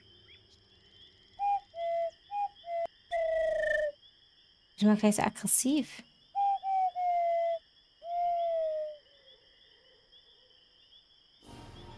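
Eagle owl hooting in the video game Harveys neue Augen, a series of short tonal hoots in spaced groups with a long descending call, mixed with game effects and a steady background hum, while a person speaks briefly.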